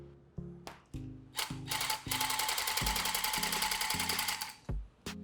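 A rapid mechanical rattling buzz like a rug tufting gun runs steadily for a few seconds, with clicks and clunks before and after.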